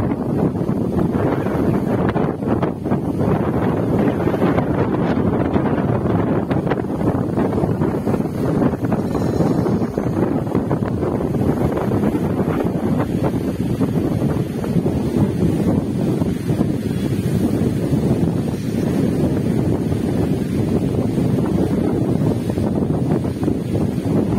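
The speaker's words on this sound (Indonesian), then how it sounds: "anginnya sangat besar. Sangat kencang sekali." Strong, gusting wind buffets the microphone at Jatiluhur reservoir, a loud, continuous roar that rises and falls for the whole stretch, with no voices heard.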